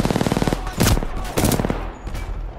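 Rapid automatic gunfire from Titanfall 2 in repeated loud bursts, with clattering shots and booms mixed in and no pauses longer than a moment between volleys.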